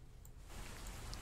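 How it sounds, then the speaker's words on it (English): Steady rain falling outside, a soft, even hiss of drops that thickens partway through and continues faintly and unbroken, with no voices over it. "Only rain sounds now."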